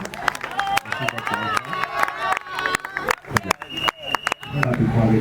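Guests at a civil wedding ceremony break into applause, a burst of hand clapping mixed with crowd murmur and voices, fairly close and rising and falling through the moment.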